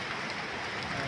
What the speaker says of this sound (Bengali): অনেক বাতাস হচ্ছে, সাথে সাথে হালকা বৃষ্টিও পড়তেছে।